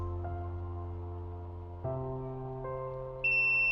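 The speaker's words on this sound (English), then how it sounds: "the device gives a long beep" Steady electronic tones from a portable X-ray device shift pitch in steps, ending in a higher, sustained beep; close and fairly quiet, with no talking.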